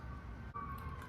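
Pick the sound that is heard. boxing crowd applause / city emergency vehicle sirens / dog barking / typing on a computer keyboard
city emergency vehicle sirens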